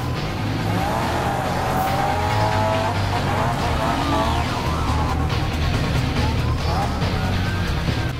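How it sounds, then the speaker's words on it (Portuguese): Police chase music from Need for Speed Most Wanted playing over a car racing game, with engine roar, squealing tires and skids, loud and continuous throughout. "é uma das trilhas sonoras, né, das fugas policiais do Need for Speed Most Wanted"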